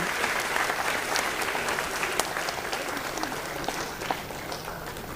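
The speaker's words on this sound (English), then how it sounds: "A big round of applause for Namita SG" Applause for an award winner at an annual management institute convocation ceremony, a large audience clapping steadily and densely for several seconds, sustained and fairly loud with no one speaking.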